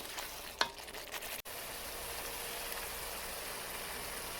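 Spice paste frying in oil for a potato and fish curry, a dense, even sizzle that runs throughout, with a sharp scrape early on and a brief dropout before the frying carries on alone.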